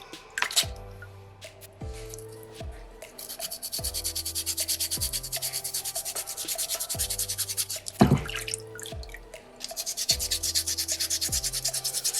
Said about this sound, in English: with the soapstone being as soft as it is, 3 sandpapers does a pretty good job